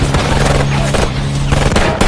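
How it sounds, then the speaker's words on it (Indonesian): Gunfire in a film shootout between gang members, loud bursts of shots cracking over a dense, busy soundtrack of music and action noise, continuous for about two seconds. "Broker sendiri terlibat baku tembak dengan Cyrus."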